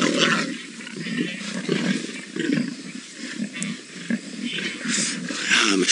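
A lion pride feeding on a buffalo carcass during an afternoon safari drive in the bush, with loud continuous growls, snarls and roars close by, overlapping and rising and falling throughout.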